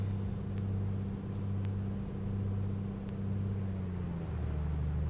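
Piper 250 engine in MSFS 2024 during prop cycling, a steady droning hum with strong low tones whose pitch dips near the end as RPM drops.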